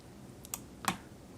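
Computer keyboard keys pressed at a desk during 3D software work, with two brief close clicks about a third of a second apart over a quiet room hum.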